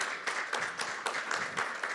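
Audience applause for city employees and chiefs at the City of Marysville State of the City address, a short burst of hand clapping heard from a distance at a moderate level.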